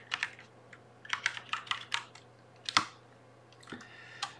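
Sharp, close clicks of typing on a computer keyboard, several quick keystrokes in short bursts with brief pauses between them and no talking.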